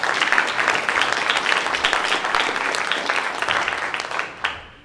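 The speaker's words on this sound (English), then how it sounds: "Another round of applause for all of our spellers." Audience applause for young spellers at a county spelling bee for fifth and sixth graders, steady dense clapping sustained for several seconds before tapering off quickly at the end.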